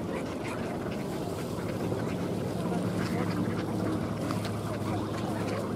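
Ducks wintering at an open-water spot in Tsarskoye Selo in frosty weather, splashing and bathing, with soft quacks and water sounds under a steady outdoor background hum and occasional voices.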